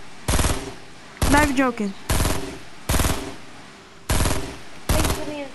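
Gunfire in a video game sounds as six loud, rapid automatic bursts in quick succession, with a player talking over the shooting.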